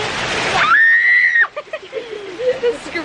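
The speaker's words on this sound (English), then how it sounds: "The scream." Someone screams in a hot tub at the top of a mountain with a long, loud, high cry over splashing water, then the voice breaks into shorter laughing yelps.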